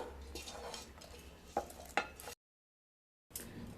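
Dosa batter mixed with a tempering in a bowl, a spoon scraping and stirring with a couple of sharper knocks against the bowl, then a short gap of silence before the stirring resumes, close and fairly quiet.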